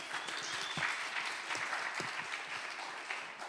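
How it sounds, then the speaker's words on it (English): Audience applause at an event, a steady dense wash of many hands clapping that fills the room, loud and continuous throughout with no voices on top. "let's give a round of applause to them"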